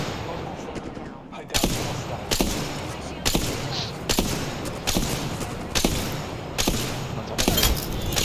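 Repeated bursts of gunfire in a battle royale video game, sharp shots recurring roughly every second over a constant background din.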